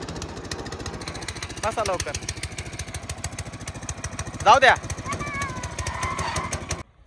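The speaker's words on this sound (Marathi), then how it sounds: "तू चालव बरं ट्रॅक्टर" A tractor engine runs steadily with a throbbing, chugging rumble throughout, near and loud, with a louder burst midway; people talk over it and the engine cuts off at the end.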